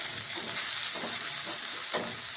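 Egg frying in a pan and being stirred: a steady hiss of sizzling oil broken by soft scraping strokes, with one sharper clack near the end.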